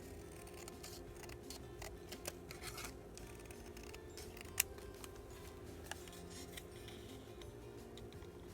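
Scissors snip through an ephemera paper page while crafting a journal, faint quick cuts and rustles spread irregularly over a steady low hum, with one slightly louder snip near the middle.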